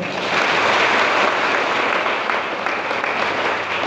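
A church congregation claps together during a Holy Thursday service at Kutni church, a dense, loud, sustained round of applause that holds steady from start to finish with no talking over it.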